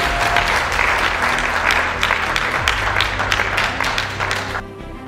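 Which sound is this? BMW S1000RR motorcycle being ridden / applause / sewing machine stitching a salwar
applause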